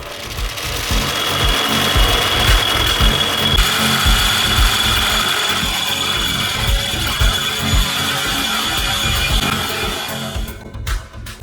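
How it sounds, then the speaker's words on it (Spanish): A drill bores 20 mm holes in metal at marked spots, giving a loud, close, grinding, ratcheting chatter that runs continuously and then cuts off near the end. "Perforamos en cada una de las marcas hasta alcanzar agujeros de 20 milímetros."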